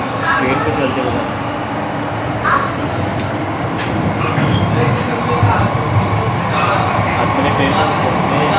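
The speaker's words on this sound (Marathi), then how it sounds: "ट्रेन कसं चालते बघा" An underground metro train runs steadily with a loud, dense rumble and rattle of wheels on track, a continuous roar throughout with faint voices beneath it.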